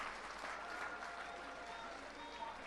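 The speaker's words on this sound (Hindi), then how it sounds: "एक बार जोरदार तालियों के साथ जज साहब का शुक्रिया अदा कर दीजिए" At a Jantar Mantar rally in Delhi, a crowd applauds continuously, sounding distant and faint, with a steady wash of clapping and a hint of crowd noise throughout.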